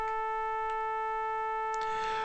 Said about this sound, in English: what you hear there is a little bit of an 880 in there